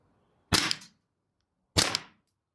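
A CO2 airsoft pistol fired twice, each shot a sharp, close, loud crack with a brief gas hiss tail, about a second and a quarter apart, against near silence with no talk.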